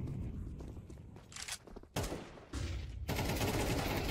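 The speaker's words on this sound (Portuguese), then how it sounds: "como assim não pegou esse tiro?" Gunshots in Counter-Strike 2 during a competitive CS2 match between Imperial and Bestia. Rapid bursts of gunfire come in a few loud clusters separated by short pauses, close and harsh, with a faint voice underneath.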